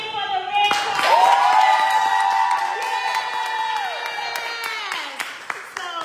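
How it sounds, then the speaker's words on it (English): An audience claps for Red Cross volunteers at a sickle cell fund blood drive and raffle, scattered hand claps and a whoop sounding under a loud sustained voice or tone that dominates the middle, with claps trailing off at the end. "Clap your hands again for the Red Cross."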